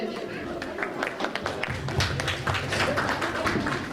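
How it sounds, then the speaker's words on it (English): Parents and guests clap for small kindergarten students at a school graduation ceremony, scattered claps building into fuller applause, with voices audible underneath. "Let's clap everybody for them."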